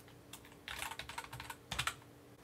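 Password being typed on a computer keyboard in a home office, a quick run of close, crisp key clicks in two short bursts with no talking.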